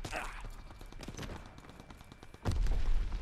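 Gunfire in Call of Duty WWII, with scattered mid-distance shots under voices and then a loud, dense low burst near the end, as a heavy machine gun opens up.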